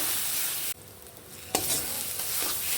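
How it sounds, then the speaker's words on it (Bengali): Ridge gourd paste stirred in a pan, a short burst of frying sizzle with a sudden dip, then a sharp utensil knock and renewed scraping and hiss, close and without speech. "ভালো করে নেড়ে নেব।"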